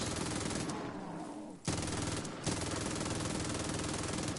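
Dense sustained gunfire from an action film, loud continuous rattling bursts of automatic weapons with only brief dips, filling the whole moment without speech.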